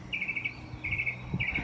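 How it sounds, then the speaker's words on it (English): Birds chirp outdoors on a Georgia morning after rain, short repeated trilling phrases at a moderate distance against a soft ambient background. "But I'm out here trying to talk over these birds."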